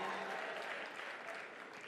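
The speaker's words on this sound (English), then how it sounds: "Clap more, please. Clap more." An audience at a Merck Foundation Africa Asia conference keeps up steady, dense applause for the full two seconds, heard close and at an even loudness.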